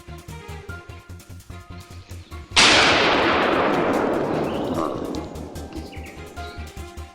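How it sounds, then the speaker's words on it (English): A single loud rifle shot cracks out in a forest during a hunt, over a rhythmic background, its echo decaying slowly across a few seconds. "The crack of gunfire rang through the forest"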